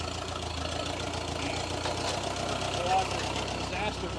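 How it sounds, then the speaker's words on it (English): A tractor engine idles steadily before pulling a 1966 Chevrolet Bel Air out of a field, a continuous mid-pitched rumble with a faint knocking rhythm, moderately loud and unbroken. "we're going to take the tractor, yank this thing off here"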